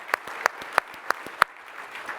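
A handful of people clapping in slow, spaced unison, about six distinct claps over a couple of seconds, moderately close against a faint room background.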